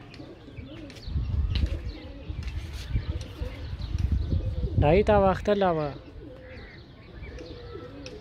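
Speech and background chatter continue throughout, with a short burst of pigeon calls rising midway, cooing and chirping close by over the voices.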